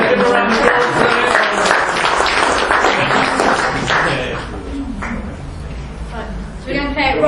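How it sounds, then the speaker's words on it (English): An audience at a Youth for Christ event applauds as volunteers come up on stage, the clapping mixed with voices talking over it. "Give a round of applause."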